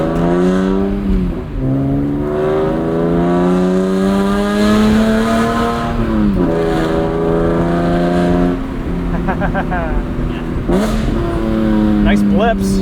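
A 2005 BMW M3 E46 Competition with 6-speed SMG and Valvetronic exhaust blips its engine several times, revs rising and falling in loud bursts close by, with people talking over it.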